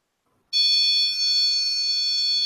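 A K2 EMF meter with a broken antenna sounds a steady, loud high-pitched electronic alarm tone held near a phone, starting abruptly after a brief silence and continuing unbroken to the end.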